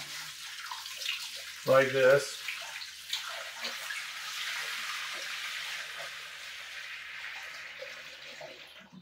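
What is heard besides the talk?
water poured into a glass tank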